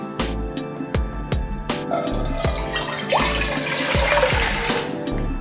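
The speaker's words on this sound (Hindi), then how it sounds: "2 गिलास पानी डालने के बाद" Two glasses of water pour into a karahi on the stove, a close, loud splashing gush that swells in the second half, with a few knocks at the start.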